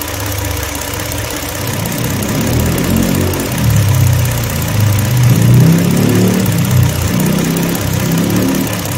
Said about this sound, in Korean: 조금 더 가까이 여러분께 엔진의 소음을, 엔진의 소리를 한번 들려드리겠습니다.